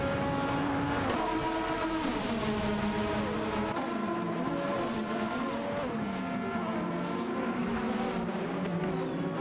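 Racing game engines from a McLaren MP4/4 and a Ferrari F1/87/88C, several high-revving Formula One engines whining and shifting pitch through gear changes, steady and loud without pause.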